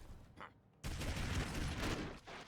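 Rapid gunfire bursts loudly and continuously after a brief quiet start, a dense rattling volley of rifle shots in the game Broforce.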